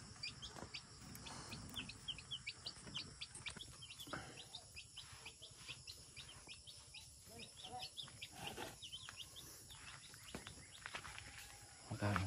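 Rhode Island chickens cluck in a low, steady stream outdoors, with other birds chirping throughout and a brief louder burst near the end.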